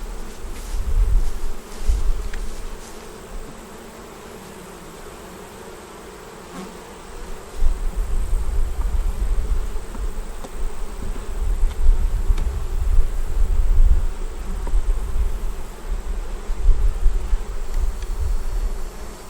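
Honeybees in an open beehive left unchecked for a month, with a white queen and the colony nearly honey bound, give off a steady, dense buzzing hum throughout, swelling louder in waves, with no voices.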